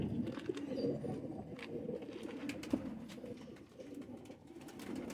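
Imamdeen and Golden Kamgar pigeons coo softly in a loft, low murmuring calls repeating at an even pace, close and fairly quiet with faint background noise.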